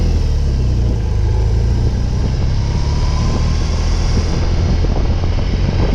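A BMW R18 cruiser with its 1802cc boxer twin rumbles steadily, a deep, continuous engine and exhaust drone heard loud and close with no talking.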